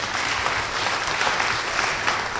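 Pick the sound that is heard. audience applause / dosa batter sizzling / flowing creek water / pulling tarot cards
audience applause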